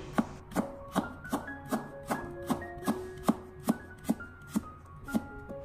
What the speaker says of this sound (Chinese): 接着我们再准备小块的生姜，把它改刀切成小片。